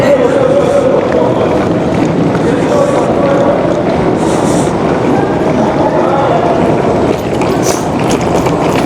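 A sleeper train sits at a station, heard as a steady, dense rumble of rail and platform ambience that lasts throughout, with faint clatter and occasional higher clinks over it.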